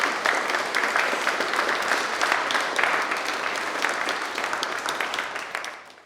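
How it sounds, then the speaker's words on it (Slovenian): An audience bursts into warm, sustained applause after a talk on Kočevje song heritage, many hands clapping loudly and densely before the sound tapers off at the end. "tako da velik aplavz."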